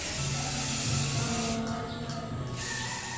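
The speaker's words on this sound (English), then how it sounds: "I then spray painted the pieces." Aerosol spray paint hisses onto sanded handmade prop pieces, one continuous spray burst of about a second in the middle against a steady room hiss.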